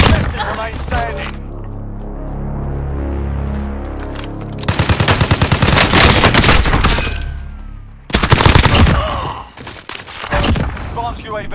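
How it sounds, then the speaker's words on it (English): Heavy automatic gunfire in Call of Duty: Modern Warfare, loud sustained bursts and rapid firing that come in waves with brief lulls, mixed with explosions and game sound effects. "Receiving hostile fire."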